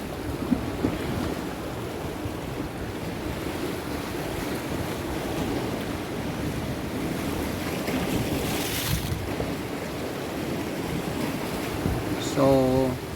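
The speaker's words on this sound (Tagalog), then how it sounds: "kita nyo na mahalo ng dagat, pakaingay niya" Rough sea churning along the shore at Maragondon Sanctuary, a continuous surging wash of waves with wind noise, and a brief voice near the end.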